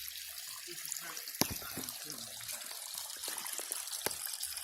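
Small river in Jordan flowing continually, a steady close wash of running water with scattered splashes and trickles, heard alone without talking.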